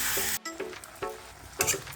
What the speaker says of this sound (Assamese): খুব সুন্দৰকৈ মই এইখিনি ভালদৰে ঢাকি পেলাই ভাজিম